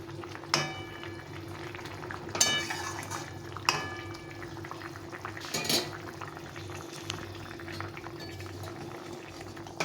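A fish curry broth of tangra fish with taro and potato bubbling in a pot, a low continuous simmer broken by a few sharp clinks of utensils against the pot.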